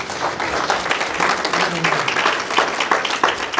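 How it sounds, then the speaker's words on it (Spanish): A church congregation applauds at a Spanish-language sermon service, a busy, fairly loud patter of many hands that holds steady throughout, with a faint voice briefly audible beneath. "Denle un aplauso al Señor."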